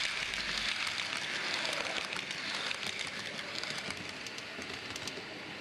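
OO gauge model railway trains run on a layout, giving a faint, continuous rattling and clicking rumble with light ticking throughout, fairly distant and without speech.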